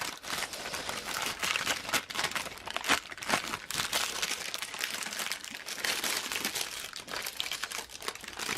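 Wax paper peels slowly off a warm perler bead design with loud, close crinkling and tearing crackles that keep going without a break.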